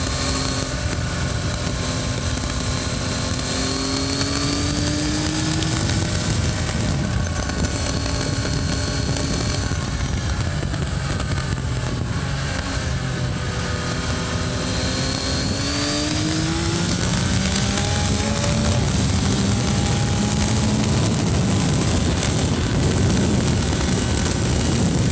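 A motorcycle rides a lap of the Isle of Man TT road course, its engine note rising and falling steadily through gear changes, loud and close, with constant wind roar and no talking.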